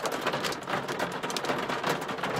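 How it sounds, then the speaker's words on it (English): Hail pelts a parked car at Katoomba, a dense, steady patter of countless small impacts on the car body, loud and close and unbroken throughout. "I'm sitting in the car at Katoomba and I think it's starting to hail"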